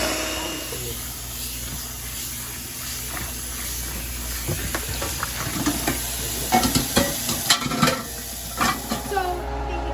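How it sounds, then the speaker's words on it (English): Potatoes stirred in a pot while cooking at home, a soft continuous sizzle with scraping and clinking of a spoon that grows busier toward the end. "But now I am going to mix the potatoes."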